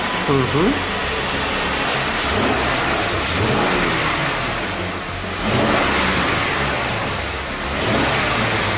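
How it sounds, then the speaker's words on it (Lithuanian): A car engine revs up close, surging and easing off in repeated waves over a steady rumble. "Gražiai ir labai tyliai dirba variklis, ne?"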